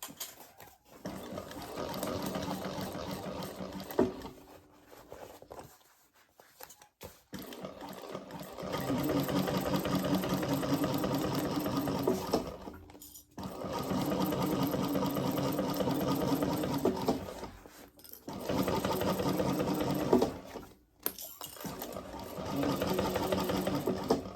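A sewing machine re-stitches the flap of a leather-look laptop bag, running in long steady mechanical whirring stretches broken by brief pauses, close and clear.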